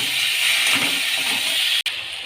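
Potatoes are sautéed in a pan with ginger, chili, cumin and turmeric, giving a steady loud sizzling hiss close up that continues almost unbroken, with one brief gap near the end and no talking.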